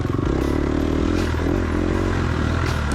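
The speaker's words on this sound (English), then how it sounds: "Trying to stay on the throttle," A dirt bike engine held steadily on the throttle during a hare scramble, a loud, continuous buzzing drone with rattling clatter from the bike over rough ground.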